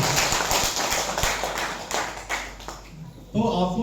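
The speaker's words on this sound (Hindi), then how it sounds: "एक बार ताली हो जाए।" Scattered clapping from an audience at an RCM business seminar, uneven and loose, with a voice cutting in near the end.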